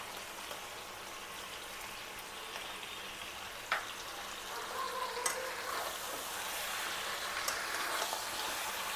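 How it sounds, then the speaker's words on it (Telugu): Chicken frying in a pan with a ginger-garlic-coriander paste, stirred so the steady sizzle is broken by scraping sweeps and a few sharp knocks of the spoon, close and without speech. "ఇది చికెన్తో పాటు వేగాలి, కొంచెం పచ్చివాసన పోయే వరకు."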